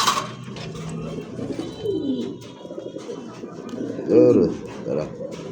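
Fancy show pigeons cooing nearby, with a couple of distinct throaty, rolling coos standing out over soft background murmuring and handling sounds.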